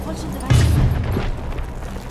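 A single muffled boom from an airjab grenade exploding in Rainbow Six Siege bursts out, short and fairly close, fading into a noisy game background.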